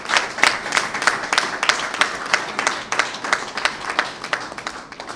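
A crowd applauds steadily and loudly for a retiring handball federation president, a dense run of hand claps at an indoor gathering, with no speech over it.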